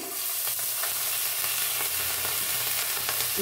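Soaked dal frying in a pan for lau halwa, a dense, continuous loud sizzle with faint scraping stirs running through it, close and with no talk.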